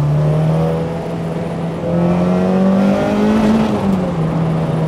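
K20-swapped Honda Civic EG revving while driving, a loud continuous engine drone heard from inside the car with pitch climbing and dipping as throttle changes, no talk over it.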